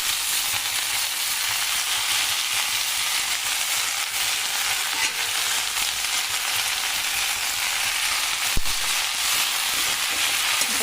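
Chopped safflower greens are tipped into onions frying in oil in a pan, and a steady, close sizzle carries through the whole clip with one brief knock near the end and no voices.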